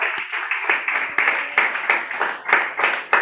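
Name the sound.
congregation applauding in church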